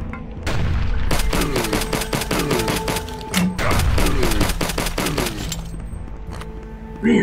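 Rapid automatic gunfire rattles through a fight in the retro shooter HROT, loud and close. Dense bursts run for several seconds with brief pauses, then taper off near the end.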